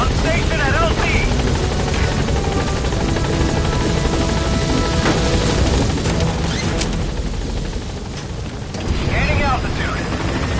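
The Pequod helicopter from Metal Gear Solid V roars loud and close at a landing zone, its dense rotor thrum continuous throughout, dipping briefly near the end before swelling again, with a radio voice talking over it.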